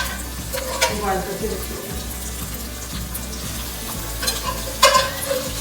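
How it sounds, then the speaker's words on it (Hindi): Boiled chicken frying with garlic and ginger in a pan for pulao, a steady loud sizzle with stirring clatter and a few sharper spoon knocks, while someone briefly speaks. "750 ग्राम हमने चिकन ऐड कर दी है। अब इसको फ्राई करते हैं।"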